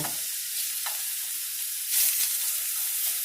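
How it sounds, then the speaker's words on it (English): Lobster sautéing in a hot pan gives a steady broadband sizzle with a few soft stirring scrapes and a brief louder flare near the end, close and alone. "It's not going to take the lobster very long to saute."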